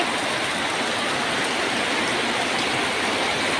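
Steady rain pours down in a dense, even hiss with no pauses, fairly loud and close.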